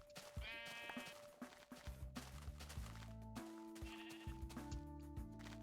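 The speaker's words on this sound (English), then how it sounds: "Look at all these sheeps." Sheep bleating repeatedly in uneven, wavering calls, several animals near and far, over a background of low steady musical tones and scattered knocks.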